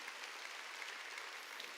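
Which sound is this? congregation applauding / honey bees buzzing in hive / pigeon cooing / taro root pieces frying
congregation applauding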